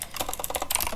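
Rapid keystrokes on a computer keyboard during a Roblox game session, a quick close-up flurry of clicky taps with no talking.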